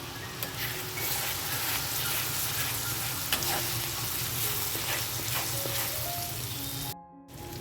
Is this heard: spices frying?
yes